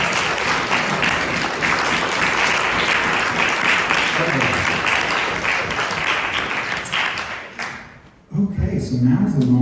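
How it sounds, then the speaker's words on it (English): Audience applause at an ornithology talk with live music, dense and steady through most of the stretch, then fading and giving way to a few voices and a closer sound near the end. "Big round of applause for Corina."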